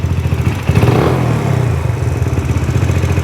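A Raptor 125 dirt bike engine with an overly high idle runs steadily at its highest idle speed, a close, buzzing, clattering drone that holds for about three seconds.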